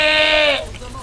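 A person imitates a goat's bleat with a short, loud, nasal wavering cry that lasts about half a second and then cuts off.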